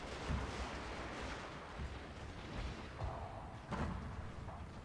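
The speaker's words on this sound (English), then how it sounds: "We're going to throw in artillery on the hill." Artillery fire in the strategy video game Fall of the Samurai, a steady stream of thumps and booms from battlefield guns rolling on under a dense roar of distant combat noise.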